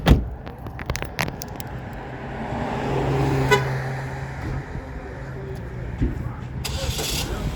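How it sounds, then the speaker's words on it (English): A 2008 Pontiac G6 starts by remote: a short horn toot, then the engine cranks and catches into a low idle, with a voice speaking close by. "Car is running, remote is start."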